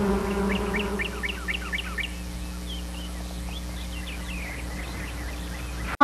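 Honeybees buzzing among flowering blossoms, a steady close insect drone with chirping birds scattered over it throughout.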